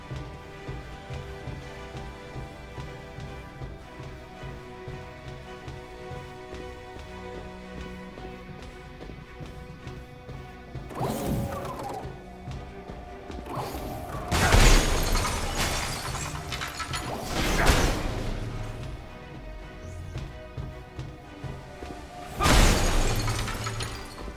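Glass door smashed and shattering in the Marvel's Avengers video game, several loud crashing impacts with bright shattering bursts spaced over a steady game music bed.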